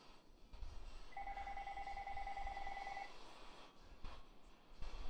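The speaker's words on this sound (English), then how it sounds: "now the fucking phone's gonna start ringing" A phone rings in the video game GTA Online, with a steady two-tone electronic trill lasting about two seconds over a busy game background, and a couple of short clicks follow.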